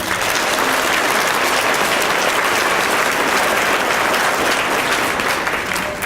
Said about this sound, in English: I would like us to give all of our secondary educators a big round of applause